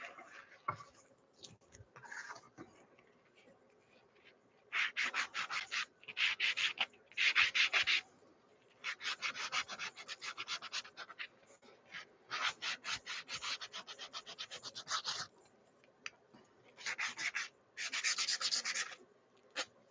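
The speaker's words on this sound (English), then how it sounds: "Sanding." Wood is sanded by hand in a woodworking shop, with rhythmic scratchy strokes in repeated bursts separated by short pauses, close and moderately quiet.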